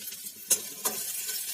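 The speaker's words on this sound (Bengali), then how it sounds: "পেঁয়াজটা কড়াই দিয়ে নাড়াচাড়া করে ভালো করে ভেজে নেবো" Chopped onion sizzles steadily in hot oil in a kadai, with two sharp scraping strokes of a spatula stirring it, close and alone with no talking.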